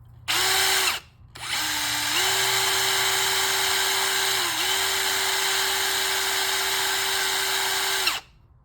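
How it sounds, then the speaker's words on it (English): A power drill spins a valve to lap it against the seat of a 2012 Ducati Diavel cylinder head. It makes a loud, steady high whine that cuts out briefly after the first second, then runs on unbroken with slight speed dips. "I'm not clamping down on my drill to hold the valve in there"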